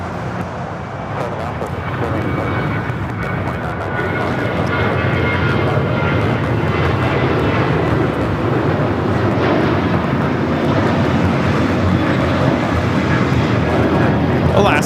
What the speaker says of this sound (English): 1317 taking off to Laredo on the 737-900 ER